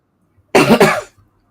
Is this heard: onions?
no